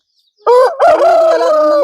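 A large Aseel rooster, about thirteen months old and under five kilograms, crows once loudly and close by, a strained opening note rising into a long sustained call with no talk over it.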